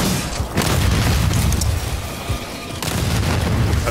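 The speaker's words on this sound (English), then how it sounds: "Throwing grenades!" Grenade blasts in the video game Second Extinction, a dense run of heavy booms and bursts layered with gunfire, loud and continuous throughout, with a brief lull before another strong blast near the end.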